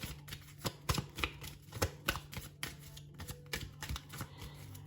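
Tarot cards being shuffled by hand, a rapid irregular run of crisp riffling snaps and soft slaps, close and alone with a faint steady hum underneath.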